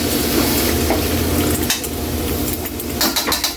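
Bicol Express being stirred in a pan, a continuous sizzle under scraping and clinking of a utensil against the pot, with several sharper metallic knocks toward the end.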